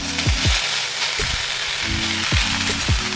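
Amaranth greens frying in a hot pan, with a steady loud sizzle running throughout, broken by several short scraping stirs of a utensil against the pan.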